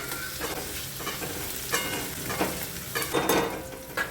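Onions sautéing in a pan while tomatoes go in, with a steady sizzle and several louder stirring scrapes and spoon clinks near the end.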